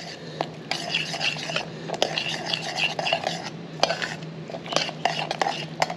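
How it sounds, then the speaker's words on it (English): A spoon stirs mushrooms and pecans in a pot for candy, giving irregular scraping and clinking against the metal at close range. "Now we're just going to stir this"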